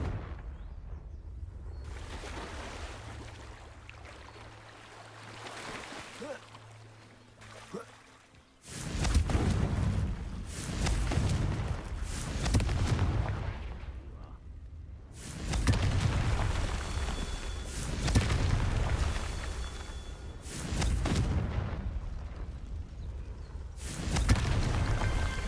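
Confringo blasting curses go off in Hogwarts Legacy spell combat as repeated heavy explosive booms, each a loud burst that rolls on for several seconds. Voices speak between the blasts.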